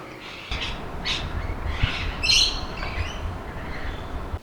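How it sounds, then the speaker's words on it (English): Birds sing after a rain, with several faint chirps and whistles from some distance, including a brighter trill near the middle, over a soft outdoor background hum. "Can you hear how happy the birds are after the rain though?"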